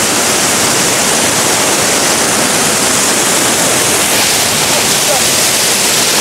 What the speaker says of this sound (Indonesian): akhirnya sampai sudah kita di air terjun